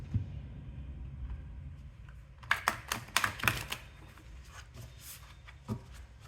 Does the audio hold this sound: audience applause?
no